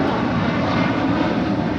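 Engines of a Boeing 777 freighter at LAX, a loud continuous jet roar, broad and steady, with no voices over it.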